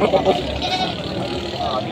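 Goats bleating at a livestock market in Padre Garcia, Batangas: a few short bleats come early amid crowd babble, with someone talking close by throughout.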